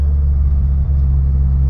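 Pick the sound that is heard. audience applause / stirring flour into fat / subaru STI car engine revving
subaru STI car engine revving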